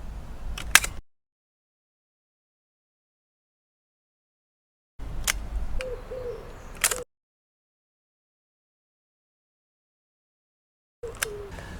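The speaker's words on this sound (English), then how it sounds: "The shutter fired both times." A vintage Balda Baldix medium format camera fires its shutter in a garden, brief mechanical clicks in short bursts separated by long silences.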